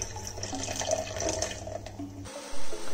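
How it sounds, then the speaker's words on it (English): An espresso shot poured into a homemade pumpkin spice latte, a soft steady liquid trickle for about two seconds, close and gentle, ending in a couple of louder thumps. "Pour the espresso shot in."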